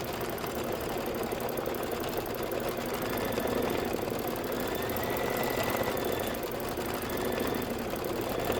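A home embroidery machine stitches a Kimberbell pie design, giving a steady, fast mechanical whir and rapid needle chatter that runs continuously and evenly at close range.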